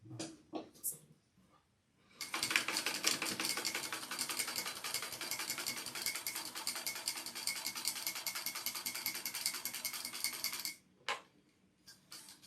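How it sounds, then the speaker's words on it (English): Sewing machine top stitching an eighth of an inch along a drawn V line on a pattern piece, a steady rapid mechanical clatter running for about eight seconds between a few short bursts at start and end. "now I'm going to top stitch down 1/8 of an inch down"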